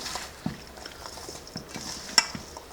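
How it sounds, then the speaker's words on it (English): Chopped green tomatoes are mixed roughly with salt, making a soft, wet, squelchy churning up close, with scattered light taps and one brighter clink near the end. "Mix the salt into the tomatoes, just roughly."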